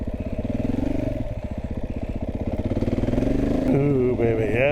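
A small motorcycle ridden off-road on a scouting trip, its single-cylinder engine chugging in a fast steady pulse close by, then revving higher near the end, with voices over it.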